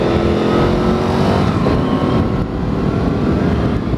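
A Can-Am Spyder RS three-wheeled motorcycle being ridden, its engine droning loud and close with a steady, slightly rising roar throughout, no talk over it.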